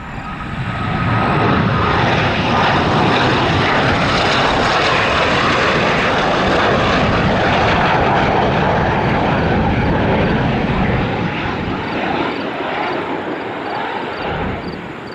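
A Northrop T-38 jet trainer flies past during plane spotting at Sioux Falls, a loud, steady engine roar that holds for the whole stretch and eases slightly near the end, with no talk over it.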